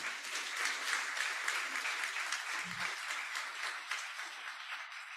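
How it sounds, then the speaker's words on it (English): Steady audience applause at a Teachers' Day programme honouring faculty and teachers, an even wash of many hands clapping at moderate distance, sounding slightly thin and far off. "So big round of applause for all of them."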